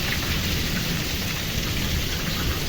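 Heavy rain with wind pours over a banana field during an out-of-season summer storm, a dense continuous hiss at steady loudness throughout, with no voices.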